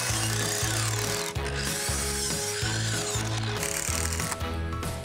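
A power drill drives screws into wood while a ramp is being built, giving repeated whirring, ratcheting bursts in a regular rhythm, close and fairly loud with no talking.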